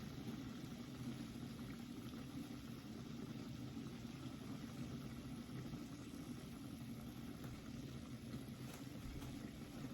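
Tomatoes and dates boiling in water in a pot on a kitchen stove: a steady, faint bubbling and hissing roar that holds constant for the whole stretch, with no voices.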